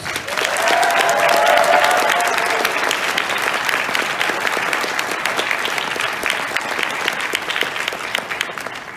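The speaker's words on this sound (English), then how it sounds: "If we want to give our guests of honor another round of applause" A large audience applauds the guests of honor at the Anime Detour 2019 convention closing, loud dense clapping sustained throughout, swelling early and easing slightly, with a voice briefly audible near the start.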